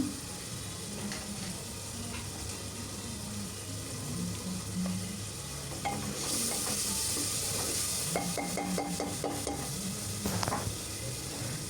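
Masala spices fry in oil for a beef-bone chana dal, giving a steady close sizzling hiss with spoon scrapes and metallic clinks against the pan as it is stirred.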